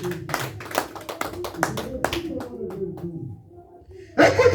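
A church congregation applauds during a French-language sermon with bursts of sharp, uneven clapping that thin out and drop to quiet before another loud wave of clapping and cheering breaks in at the end.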